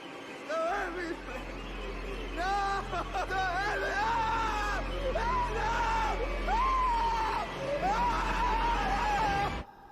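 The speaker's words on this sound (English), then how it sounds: "He just lays there and screams like a kid." A man screaming in a horror movie scene, repeated loud rising yells in bursts over a low background drone, with some other vocal noise mixed in.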